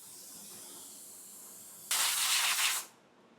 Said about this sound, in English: this is the best clear coat gun in the game right now, my opinion. This is a WS400 Series 2